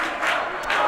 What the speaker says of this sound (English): The students are out in mass. You can hear them in the background.